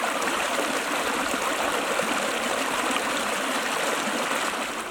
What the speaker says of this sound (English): it looks like I might be following the stream